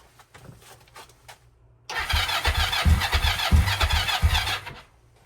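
A Kawasaki KLE 500 motorcycle, starved of fuel, is cranked over on its starter: after faint clicks, a loud, steady churning turnover runs for about three seconds with rhythmic pulses, sputtering as if trying to fire, then stops without catching.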